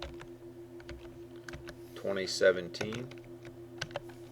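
Keys tapped on a computer keyboard while entering spreadsheet values, light scattered clicks with a brief quicker burst, under a speaking voice that continues across the clip.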